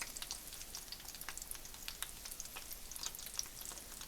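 Open sandwiches topped with cheese fry in a pan over low heat, giving a steady, soft crackling sizzle with scattered small pops throughout and no talking.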